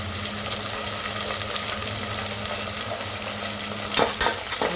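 Green chillies, dried chillies and mustard seeds fry in hot oil for a South Indian dal rice, a steady sizzle with stirring throughout and a few louder clatters near the end; no one speaks.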